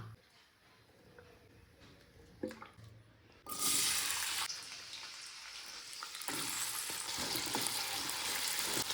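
Oil sizzling in a kadhai while sabudana khichdi with potatoes cooks. A quiet start with a few clinks gives way to loud, steady, close frying that continues to the end.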